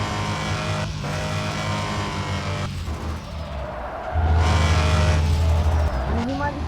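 A Mercedes-AMG car engine rumbles steadily nearby, then swells into a louder, deeper roar near the end with a rising whine; a voice talks briefly over it.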